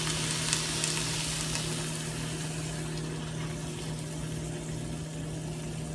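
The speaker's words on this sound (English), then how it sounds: "now here is when I'm going to add that half a cup of veggie stock that we talked about earlier" Half a cup of vegetable stock poured over a hot tofu stir-fry in a pan, giving a steady soft sizzle and bubbling hiss with a faint background hum, fairly quiet and continuous.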